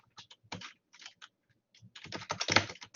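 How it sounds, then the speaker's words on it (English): Typing on a computer keyboard during a lecture, irregular bursts of clicky keystrokes that pause briefly, then grow denser and louder toward the end, close to the microphone. "I'm just typing for those of you who can't hear."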